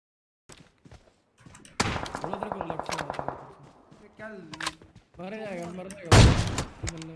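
Gunfire in a mobile battle royale game during a two-versus-four squad fight, with sharp bursts of rapid shots and a loud volley near the end, mixed with excited talk from players.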